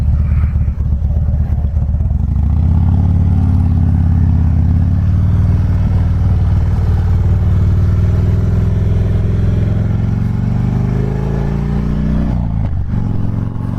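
Loud, continuous low engine drone from a custom Harley-Davidson Fat Bob being ridden, with the pitch rising gradually as it accelerates, then dropping near the end as the throttle comes off.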